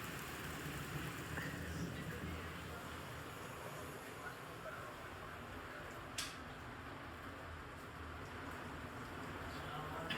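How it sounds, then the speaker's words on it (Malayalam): Steady rain falls in a Gulf country as an even, soft hiss that holds the same level throughout, with one brief sharper tick partway through and no voices. "മഴണ്ട്"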